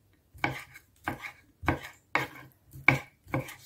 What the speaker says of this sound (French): On va couper les crevettes